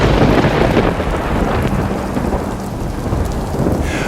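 Heavy rain pours steadily with a deep rumble of thunder rolling underneath, loud and enveloping from start to finish.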